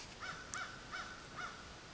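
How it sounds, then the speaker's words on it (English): A crow caws four times at a steady, evenly spaced rhythm in a quiet countryside setting, each call short and fairly faint, as if from some distance, with no talking. "I hear a crow."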